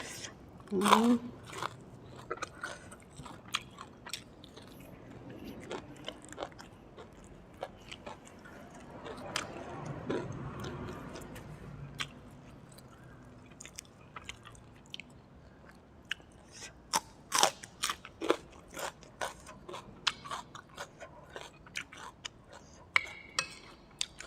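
Someone eats fried chicken with sticky rice and a pounded bean salad, with close, irregular crunching and chewing. Soft background voices come through intermittently.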